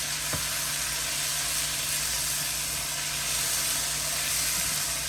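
Seasoned vegetables sautéing in a pan for a ground turkey quiche, a steady, close, moderately loud sizzle and hiss with a faint stir or two and no talk.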